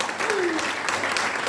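Brief burst of congregation applause in a church service, a continuous dense patter of many hands at moderate distance with a faint voice running through it.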